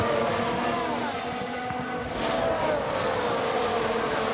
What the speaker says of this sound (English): Hamilton is saving fuel in that DRS train.